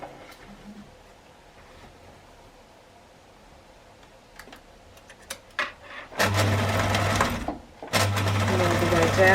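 Sewing machine running in two loud bursts, stitching a seam on a crossbody shoulder bag, with a short pause between runs after quieter handling sounds and faint talk.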